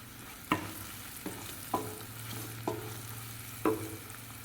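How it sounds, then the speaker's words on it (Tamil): Onions sautéing with salt in a pan for kovakkeerai rice, a steady sizzle broken by four sharp spatula scrapes and knocks spaced about a second apart, close and moderately loud. "இதுலேயே உப்பு சேர்த்து வதக்கிக்கலாங்க"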